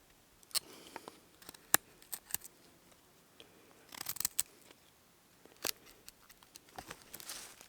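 A knife cutting a notch into a branch for a campfire tripod at a bushcraft camp: a series of sharp, close, irregular snicks and crunchy scrapes with quiet gaps between them.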